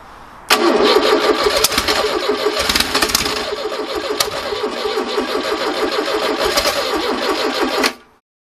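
A 1969 Ford Capri engine is cranked by the starter with a rapid rhythmic churning, then runs on at a loud, rough, lumpy idle for several seconds before cutting off abruptly.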